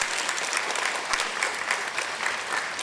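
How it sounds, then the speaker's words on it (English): A standing audience at a student science fair awards ceremony gives a round of applause, a thick, lively wash of many hands clapping at a steady level throughout. "Give them a round of applause."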